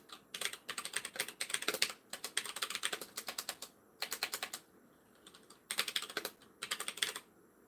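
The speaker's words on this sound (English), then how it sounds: "you just heard me typing" Rapid clicky keystrokes on a mechanical keyboard come in bursts separated by short pauses, close and fairly quiet.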